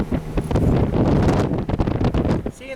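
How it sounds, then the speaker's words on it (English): Strong wind gusts through trees, a loud rushing roar rising and falling in surges with buffeting across the microphone, no speech. "Seeing the wind blow the trees like that."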